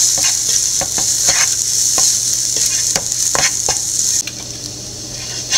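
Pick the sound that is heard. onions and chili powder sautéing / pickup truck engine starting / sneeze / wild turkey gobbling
onions and chili powder sautéing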